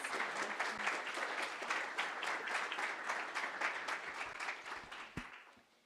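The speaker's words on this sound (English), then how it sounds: "Give another round of applause." Audience applause at a climate and justice community day event, steady dense clapping throughout that thins out and fades toward the end.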